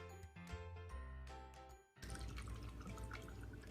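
Room temperature water pours into cups, a steady trickling and splashing that starts abruptly partway through and runs on to the end, fairly close, with a softer clinking, dripping stretch before it.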